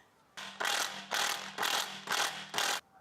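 A ratchet wrench snugs car suspension bolts while a lower control arm and knuckle ball joint are replaced on an imported car, five bursts of rapid clicking in a steady back-and-forth rhythm, close and fairly loud.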